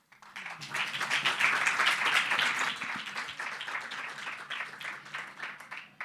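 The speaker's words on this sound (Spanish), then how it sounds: "Con ustedes les presentamos con un gran aplauso a las presentadoras." An audience at a Spanish-language book presentation applauds the presenters with steady, full clapping from a crowd. The applause builds quickly, holds strong, then slowly thins out over about six seconds.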